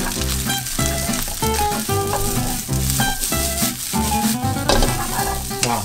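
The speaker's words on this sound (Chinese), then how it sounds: "那这个炒饭我建议你还是要用个中大火哦，炒起来有它的香气在的哦" Egg fried rice stir-fried in a pan over medium-high heat gives a steady, close sizzle with stirring and scraping throughout, partly under tonal background music.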